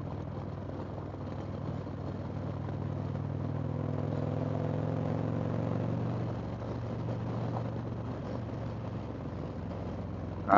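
A motorcycle engine runs steadily while being ridden, a continuous close drone with a slight swell in the middle and a sharp rise at the very end.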